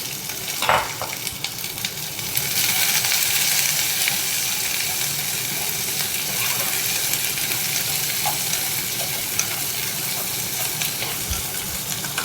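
Onions drop into hot oil in a pan for a buttermilk rasam with a soft thud, then break into a steady, loud, broadband sizzle that holds for about ten seconds, with no talking.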